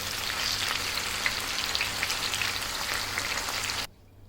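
Chicken tikka pieces fry in hot oil with a steady, dense crackling sizzle, close and full, running evenly before cutting off abruptly near the end.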